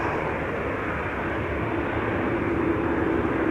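A fixed-wing airliner arriving on runway 27, the Buitenveldertbaan, at Schiphol Airport produces a steady, loud, broad engine roar that holds throughout without voices.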